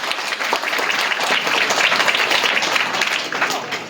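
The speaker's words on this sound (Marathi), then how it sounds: "आपण सगळ्यांनी एकदा टाळ्या वाजवून" An audience at a Zilla Parishad primary school's admission festival claps to welcome an administrative officer. The applause is loud, steady and dense, and lasts the whole stretch with crowd noise mixed in.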